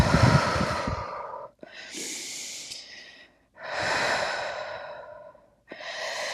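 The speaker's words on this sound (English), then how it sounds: "Big deep breath in, hold." A deep inhale during a yoga session, a long airy breath drawn in and held, followed by further close, soft breaths separated by brief pauses.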